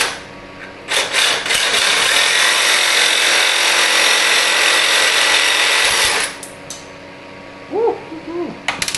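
A power tool grinds into a billet Coyote crate engine, a loud continuous whine of about five seconds after a brief start, then cutting off; short bursts and faint squeals follow.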